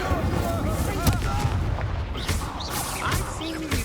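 An Incendio fire spell is cast in Hogwarts Legacy, a burst of whooshing flame with booming, gunfire-like impacts over a dense, loud in-game soundscape of effects.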